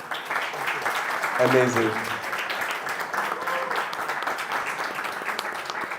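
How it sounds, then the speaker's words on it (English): Audience applause after a live XR panel discussion, a moderate wash of clapping with a brief spoken exclamation near the start. "Big round of applause for our panel"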